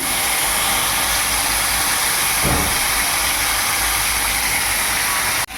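Onion dropped into hot oil with five-spice for a Bengali raw papaya greens dish, giving a steady, loud, continuous sizzle and hiss that holds throughout with a brief flare midway.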